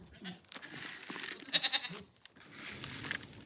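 Farm goats eager for treats let out a short burst of loud bleats in the middle, set against quieter outdoor background noise and scattered rustling.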